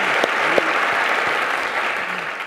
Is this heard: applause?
yes